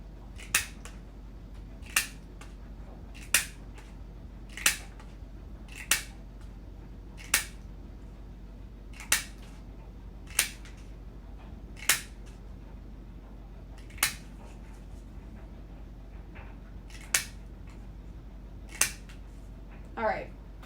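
Scissors snip through paper to cut out small dots for a Lego-style brick card, a dozen or so sharp, crisp clicks spaced a second or two apart over a quiet background.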